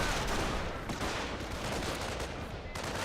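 Mixed small-arms and rifle fire crackles in a dense, continuous battle din from a Company of Heroes match, steady and loud throughout with no clear individual shots standing apart.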